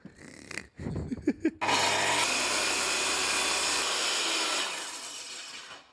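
A power tool cuts through an oak log outdoors; after a few short bursts and a pause, the motor settles into a loud, sustained whirring cut for several seconds before winding down.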